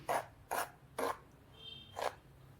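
Maida and semolina rubbed together with oil by hand, four rough rasping strokes spaced about half a second apart, close and clear with a quiet pause before the last.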